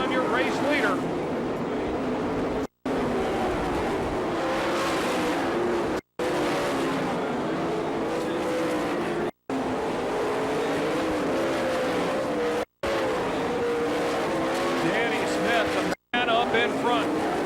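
Sprint cars roar around a dirt oval at Florence, Kentucky in an All Star Circuit of Champions race, engines loud and continuous with rising and falling pitch as they throttle through the turns, while an announcer talks over them.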